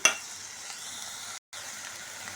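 Khichdi frying in a pan, a steady close hiss of sizzling oil that cuts out briefly, with a faint stir at the start.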